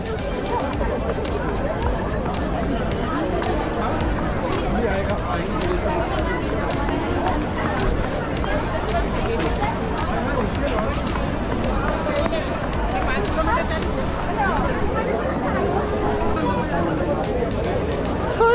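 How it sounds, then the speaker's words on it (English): Crowd of runners at the Dubai Run 2022, a continuous babble of many voices chatting and calling out along the course, dense and steady throughout. "The crowd here."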